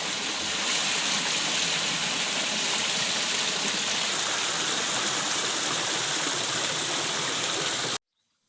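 A steady, loud rush of water pouring and splashing continuously for several seconds out of a cut leather bag during hide tanning, then stopping abruptly.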